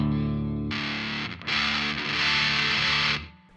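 Fuzzsimp FX Muzzsimp distortion pedal on bass with the sweep engaged: a low sustained note rings clean, then a loud buzzy distorted chord kicks in with a brief dip, swells bright and steady, and fades out near the end.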